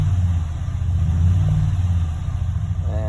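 Engine of a 2013 Dodge Ram 1500 with the 5.7 Hemi V8, misfiring on cylinders six, seven and eight from a timing fault, running with a loud, steady, uneven low rumble close by, a faint rising whine near the end.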